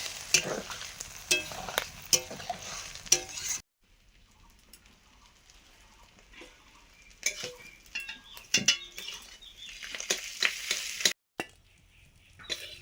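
Fish roe fries in a pan with crisp bursts of sizzling and scraping stirs from a spatula, fading to a quiet low crackle midway before the clatter and sizzle return.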